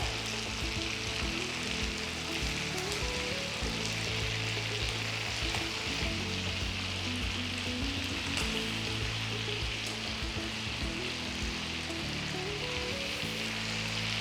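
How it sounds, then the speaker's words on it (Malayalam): Payyoli chicken pieces fry steadily in a pan of oil, giving a loud, continuous sizzle with a dense crackle that holds level throughout, with no one speaking. "നമ്മൾ 2 സൈഡും ഫ്രൈ ചെയ്തു എടുക്കാം."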